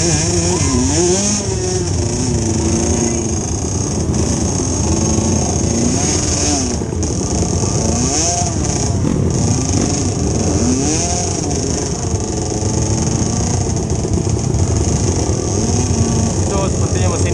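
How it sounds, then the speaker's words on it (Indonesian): A Kawasaki Ninja motorcycle engine revs amid other idling bikes in a traffic jam at a trail riding event in Gowa, loud and wavering, with people talking over it. "Itu sepertinya mesin ninja"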